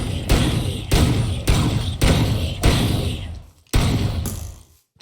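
Shotgun blasts in a Minecraft gun mod video game, six loud, heavy booms spaced roughly every half second to a second, each with a short decaying tail and no talk.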